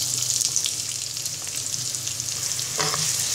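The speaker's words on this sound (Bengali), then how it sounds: "পেঁয়াজটাকে ব্রাউন কালার করে ভেজে নিব" Chopped onions, about a cup, fry in half a cup of hot soybean oil in a wok, giving a continuous close crackling sizzle with occasional stirring scrapes as they brown.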